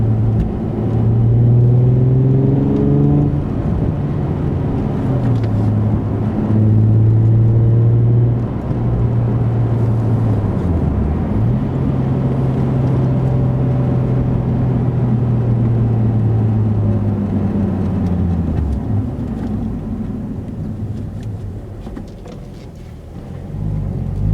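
A low engine drone inside a Nissan 350Z or 370Z cabin with windows up and an Invidia Gemini exhaust, rising and falling as gears shift, with a deep exhaust rumble steady throughout.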